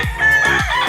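A rooster at a gamefowl farm crows loudly and close by, one strained, drawn-out call lasting the whole moment with no talk over it.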